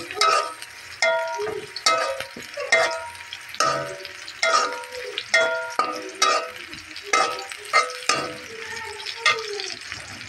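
Spice paste being stirred and fried in a wok for a cauliflower and potato dish, with repeated rhythmic scraping strokes of a spatula over a steady sizzle, close and fairly loud.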